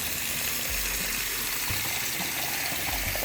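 Water runs steadily from a kitchen tap into a sink, a continuous broadband rush with occasional low splashes, close and fairly loud, no talking.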